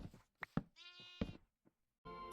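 Sheep in a Bronze Age farming video game bleat several times, clear and close, with short calls and one longer wavering bleat, separated by brief silences.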